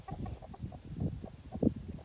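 A rooster in a backyard flock gives soft, low clucks and short throaty calls, a handful of brief sounds spaced irregularly, quiet and close with no talking.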